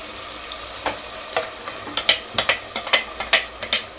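Masala spices tipped into hot oil for mutton curry, a crackling sizzle with a run of sharp pops and spatters that pick up in the second half, close and loud with no voice.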